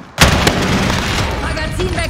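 A grenade explosion in Call of Duty Modern Warfare hits as a sudden loud boom right after a brief quiet moment, followed by a dense rumbling battle din with further faint pops.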